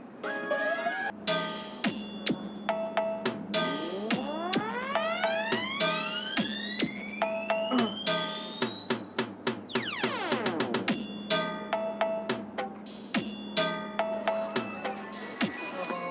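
Hard bass DJ mix of Guru Ravidas Amritwani devotional music played back loudly, with pounding repeated beats, rising and falling siren-like synth sweeps and sharp rhythmic stabs running throughout.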